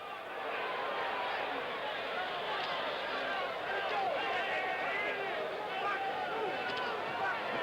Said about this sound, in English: this championship defense has really got this crowd going now